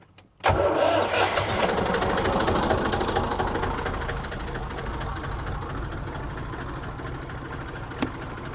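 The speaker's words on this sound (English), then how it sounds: "Time to get the engine running and run more and get going." A narrowboat's diesel engine cranks and catches, then settles into a steady, loud chugging idle with a brief clank near the end.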